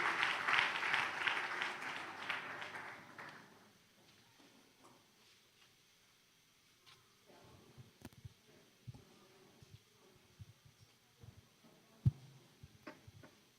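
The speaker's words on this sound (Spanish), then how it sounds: "Denle un fuerte aplauso, hermano" A burst of applause from a crowd fades out after a few seconds, followed by scattered faint clicks and knocks in a quiet room.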